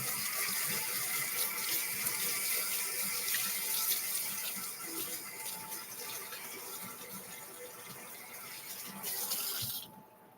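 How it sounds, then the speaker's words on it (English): Water runs steadily from a kitchen tap as hands are rinsed beneath it, a continuous close splashing hiss that shifts slightly as the hands move, then cuts off abruptly at the end. "Gonna rinse my hands."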